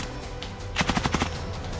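A quick burst of about seven or eight military gunshots rings out in an even rhythm at moderate distance, over steady wind and field noise.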